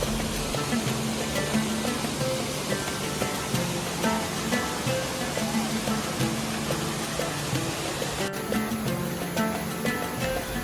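Mountain waterfall at Rock Garden in Darjeeling, a steady, dense roar of rushing water that fills the whole stretch without a break, loud and close, with no voices.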